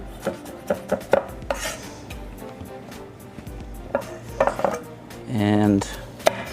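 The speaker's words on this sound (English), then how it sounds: "So just keep cutting these down into a rough julienne." Carrots being chopped into a rough julienne on a cutting board for plant-based carrot barbacoa tacos, irregular close knife taps with a brief scraping rasp near the end.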